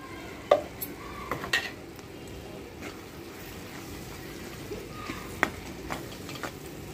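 Onions fry with salt and chili powder in a pan, a low soft sizzle under occasional spoon taps and scrapes against the metal, close but fairly quiet.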